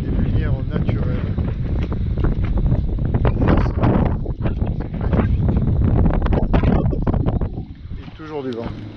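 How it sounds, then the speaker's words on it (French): Strong gusts of wind buffet the microphone throughout, rumbling and crackling loudly, with a voice briefly heard near the end. "Et toujours du vent."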